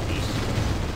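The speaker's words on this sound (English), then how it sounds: "And boom, everybody exploded." Explosions rumble in Command & Conquer, a dense, loud, low roar of booms blending into one continuous blast with no talk.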